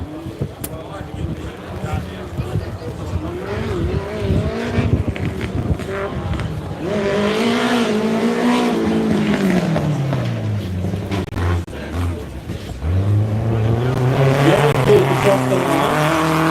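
Race cars at the Loveday 400 circuit, including a production four-wheel drive, roaring past on track with engines rising and falling as they pass, loud and continuous, under a commentator's voice.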